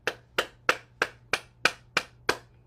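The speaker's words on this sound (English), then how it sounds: "let us go and clap our hands to stimulate our heart and lungs" Eight sharp hand claps in a steady, evenly spaced rhythm, close and fairly loud, performed as part of a morning bouncing and tapping exercise routine, with no talking.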